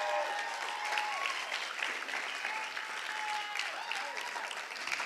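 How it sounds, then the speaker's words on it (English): Sustained applause from an audience at a church event welcoming a woman to the stage, dense and steady throughout with some background whistles or cheers faintly mixed in. "Will you please give her a round of applause?"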